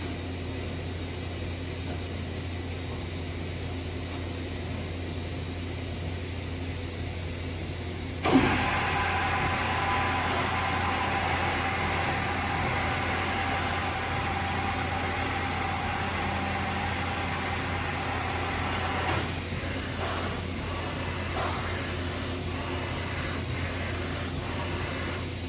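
A used 2018 Supertec G32A-50CNC angle head CNC OD grinder runs with a steady mechanical hum and broadband hiss, which steps up louder around a third of the way in, then continues evenly with a few faint clicks near the end.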